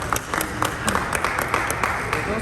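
A crowd claps loudly for a guru at a gathering, a dense, steady burst of applause from many hands, close and sustained for a couple of seconds with a voice faintly mixed in.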